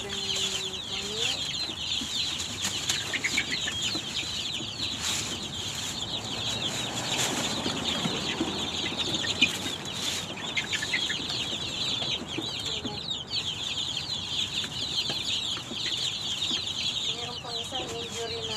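Backyard chickens cluck steadily throughout while being fed scraps of leftover and stale bread, with occasional wing flaps amid a continuous farmyard din.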